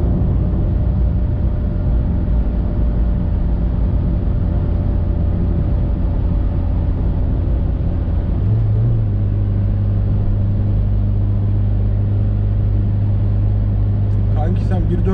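A 1992 Nissan car climbing a long uphill slope on a holiday road trip, with a steady, loud engine drone and road rumble throughout, under continuous talk in the cabin.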